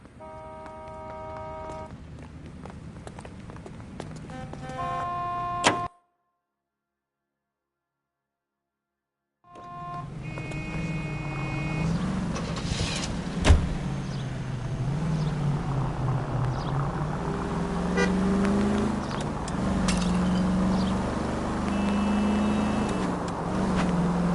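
A car engine drones steadily while driving in the game L.A. Noire, a continuous mid-level hum that cuts out for a few seconds and then resumes, with brief tonal effects before the gap and a sharp bump midway.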